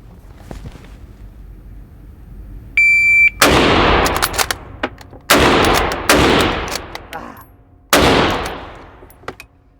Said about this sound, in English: my Manky Mauser with some Manky steel-cased, modern production, Romanian ammo